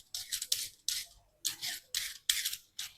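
A carrot being peeled in a home kitchen, with several short, crisp scraping strokes in an uneven rhythm, close and fairly quiet, separated by brief pauses.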